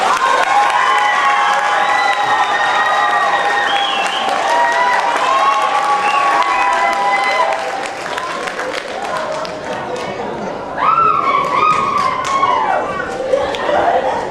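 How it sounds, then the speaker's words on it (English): Dense clapping from an event audience honoring standing teachers and artists at a book-themed gathering, sustained and loud throughout, with many shouting and cheering voices layered over the applause. "Let's give them a round of applause."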